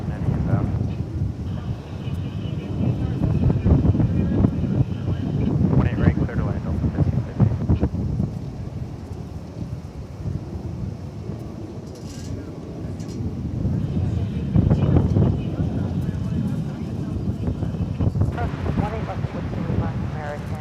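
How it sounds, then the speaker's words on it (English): Steady wind rushes and buffets the microphone outdoors at Dallas Fort Worth airport, a continuous broadband roar with a faint distant aircraft hum and a voice talking under it. "The wind is picking up,"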